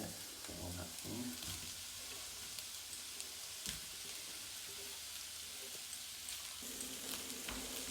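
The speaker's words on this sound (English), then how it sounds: "fry the onion on a medium heat until golden" Chopped onion sizzles in hot oil in a pan on medium heat for a quiche, a steady faint crackle with occasional stirring scrapes, no voices.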